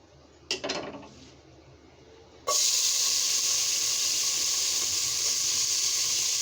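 A brief clatter of a pot comes first, then a loud, sudden hiss as plenty of onions hit hot oil in a cooking pot, settling into a constant, close sizzle with no talking.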